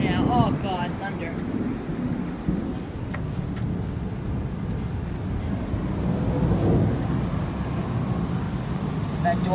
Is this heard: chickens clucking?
no